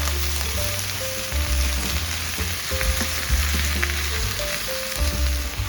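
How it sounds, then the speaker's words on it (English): Chopped onion and mixed vegetables sizzle and fry steadily in hot oil in a frying pan, a dense continuous crackle close by with faint clinks underneath. "We're gonna take all these beautiful vegetables and add them to the frying pan here."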